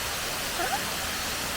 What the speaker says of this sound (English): This is called Brandywine Falls, just like Janet's dream.